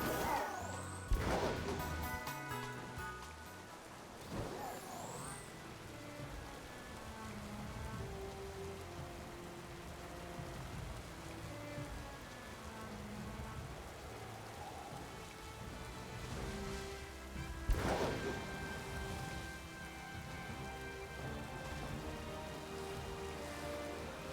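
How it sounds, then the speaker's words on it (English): Steady rainfall in a Pokémon video game patters across surfaces throughout, with a couple of sharp cracks and some faint background music and tones. "Hey, it's raining."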